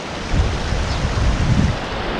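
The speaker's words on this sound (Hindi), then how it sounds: "पानी की आवाज़ इतनी सुकून भरी है ना यार, आपको सुनाई पड़ रही होगी पानी की आवाज़" Glacial meltwater stream near Khardung La in Ladakh, rushing as a steady, broad roar of water with gusty wind mixed in, fairly close and continuous throughout.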